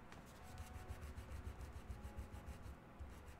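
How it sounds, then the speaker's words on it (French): A small eraser rubs back and forth on paper during a coloring session, making a quiet, rhythmic scrubbing of short, even strokes. "pour gommer les petits détails sans gommer le fond"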